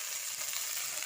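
Cauliflower sizzling steadily in a hot pan with salt and turmeric, a continuous close, soft crackle with faint scraping of stirring underneath.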